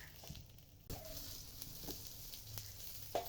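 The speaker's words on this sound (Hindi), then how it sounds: "तो दूसरी साइड को भी अच्छी तरह से फ्राई कर लेंगे" Brinjal slices fry on a tawa with a soft, steady sizzle, faint overall, marked by a few small clicks and a brief scrape of a utensil.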